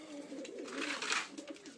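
Kaldoma pigeons in a breeding loft give soft, low cooing through a short stretch, fairly faint against quiet room ambience.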